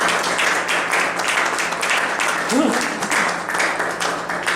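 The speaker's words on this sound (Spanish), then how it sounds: "Vamos a iniciar con un fuerte aplauso" A conference audience on ancestral medicine claps together in a strong round of applause, dense and continuous across the whole stretch, with a brief voice rising faintly through the clapping midway.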